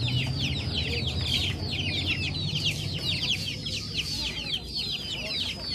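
Many chicks cheep constantly in a busy, high-pitched chorus close by, over a low background murmur.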